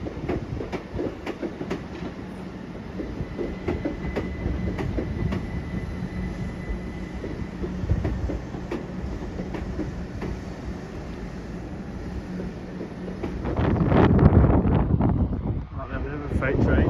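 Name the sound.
freight train passing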